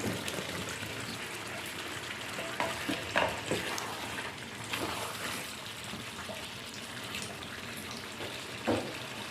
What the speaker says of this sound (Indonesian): Diaduk-aduk biar merata.